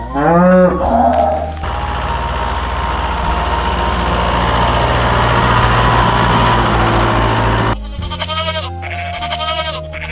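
Cows on a farm mooing loudly and close, with a long sustained low moo in the middle framed by shorter calls at the start and end.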